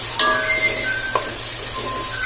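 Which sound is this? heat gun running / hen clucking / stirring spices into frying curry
stirring spices into frying curry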